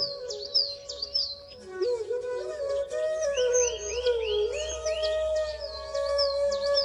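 Birds chirp and whistle in quick, repeated high notes over a steady, lower sustained tone, fairly close and clear.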